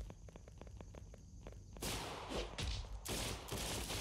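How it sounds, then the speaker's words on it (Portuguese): Gunfire in BAD 2 BAD Apocalypse as a man shoots at a zombie: a rapid string of regular shots at first, then heavier bursts of overlapping fire, moderately close. "tem um cara ali atirando no zumbi"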